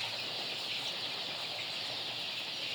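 Dense, steady chatter of a crowded poultry house holding about 300 roosters and 1650 hens, with many overlapping clucks blending into a continuous close wash of sound and no one speaking.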